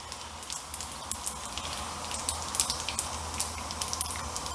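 Macaroni deep frying in hot oil, a soft continuous sizzle dotted with small crackling pops and bubbling spits throughout, moderately quiet and without voices.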